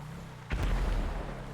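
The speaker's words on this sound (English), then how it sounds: "There was an explosion around here somewhere." A single deep boom of an explosion in the video game FiveM, a sudden low blast followed by a short rumbling tail, heard alone without talk.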